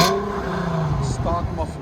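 An Infiniti G37 with a 3.7L V6 and a resonator delete exhaust with 4-inch tips revs loudly nearby, a steady raspy drone that rises briefly near the end, with a voice talking over it.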